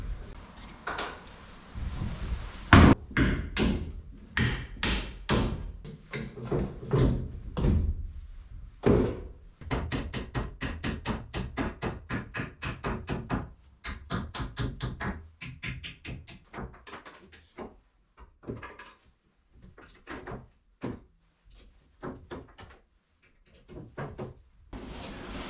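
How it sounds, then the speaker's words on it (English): Nails being pried and hammered out of used wooden planks: a long run of sharp knocks, thunks and creaks in uneven bursts, close and fairly loud, with no talking. "Have to remove some nails from some used planks that I've got"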